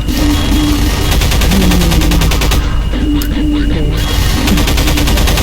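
Rapid automatic gunfire from a Half-Life 2 firefight rattles in loud, continuous bursts with a brief lull midway, a voice talking over it.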